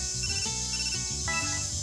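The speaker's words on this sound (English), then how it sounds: "On a day with chirping cicadas and bright summer sun" Cicadas buzz and chirp in a steady summer chorus within the video game Hakuoki SSL, a shrill, continuous layered drone with overlapping pulsing tones, close and unaccompanied by talk.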